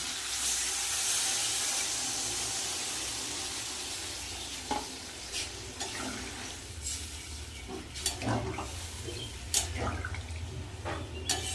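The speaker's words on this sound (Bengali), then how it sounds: "এবার আমি দিয়ে দেবো জল" Water poured into a pan of well-fried spices for a thin rohu fish curry sets off a loud hiss that eases into a steady simmering sizzle, with a few sharp spoon clinks and scrapes later on.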